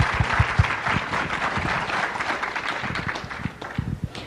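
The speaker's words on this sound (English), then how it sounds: "please give her a great round of applause to lead us in the discussion" An audience at a community panel discussion gives a short round of applause, close and fairly loud, with a few sharp individual claps standing out over the steady patter.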